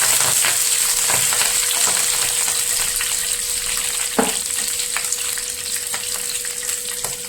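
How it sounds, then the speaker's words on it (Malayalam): Curry leaves and slit green chillies frying in oil for a mushroom street-food dish, a loud, dense, even sizzle with occasional light taps of stirring. "ഇതിലേക്ക് രണ്ട് തണ്ട് കറിവേപ്പില കൊടുക്കുക ഒരു മൂന്ന് പച്ചമുളക് അത് കീറിയത് ജസ്റ്റ് ഒന്ന് ഇളക്കി കൊടുക്കാം"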